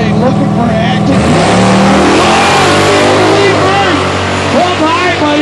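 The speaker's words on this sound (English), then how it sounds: "Pontiac versus Chevrolet Camaro up on the starting line now" A 454 Pontiac Firebird and a Chevrolet Camaro rev hard side by side at a drag strip starting line, a loud continuous roar with rising and falling pitch, and an announcer calls over the engines throughout.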